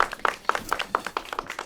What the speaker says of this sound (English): Let's give Lish a round of applause.